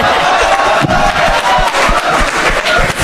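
Live audience at a comedy show in Bangalore cheering, shouting and clapping in a loud, dense roar that fills the room continuously for a few seconds.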